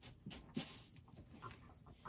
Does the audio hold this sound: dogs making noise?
yes